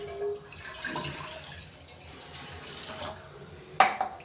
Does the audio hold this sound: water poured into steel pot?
yes